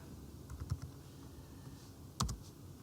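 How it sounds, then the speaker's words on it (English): Typing on a computer keyboard into a search box: a few quiet, scattered key clicks, then a sharper cluster of taps near the end, faint against a soft room hiss with no talking. "Now what you need to do then is to type into the search Gantt"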